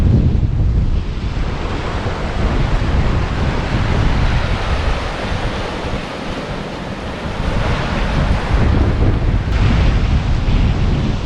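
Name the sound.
ocean waves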